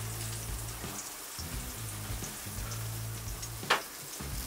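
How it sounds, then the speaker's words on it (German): Olive oil goes into a pan on a gas grill during winter grilling of ossobuco, a soft steady sizzle and crackle running throughout with one brief sharp clink near the end. "Jetzt tun wir noch mal ein bisschen Olivenöl rein."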